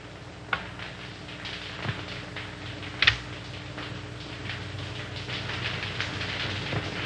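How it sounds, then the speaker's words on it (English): A toy train rattles steadily along its track with a continuous rumble and occasional sharp clicks, and no voices. "the train went around and around and around"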